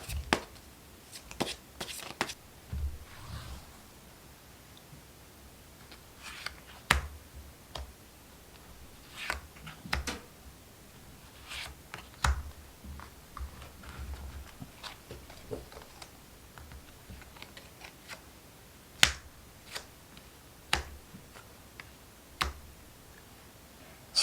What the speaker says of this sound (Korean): 추가적인 카드를 이어서 뽑아볼게요